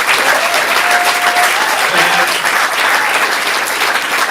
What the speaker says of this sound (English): So give everybody a round of applause.